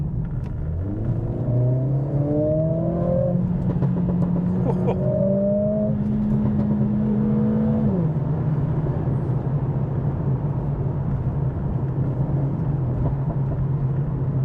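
A Mercedes CLA45s with a modified exhaust in race mode, its engine note rising through revs and holding a steady drone, heard from inside the moving car with faint talk underneath.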